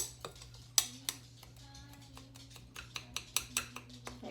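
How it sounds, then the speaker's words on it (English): Ingredients for baked apples, including pecans, being stirred together in a bowl produce soft clinks and taps of a utensil against the dish at an irregular rhythm, fairly quiet and close. "And then we're just going to stir that in together."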